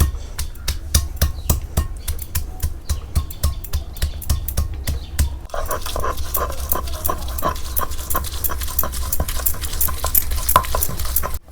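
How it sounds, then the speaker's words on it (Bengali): Garlic being ground into paste on a grinding stone, a steady run of rough scraping strokes that turn denser and more continuous halfway through, close and fairly loud. "রসুনটাও আমি নিয়ে নেব, রসুনটাও বেটে নিই ভালো করে।"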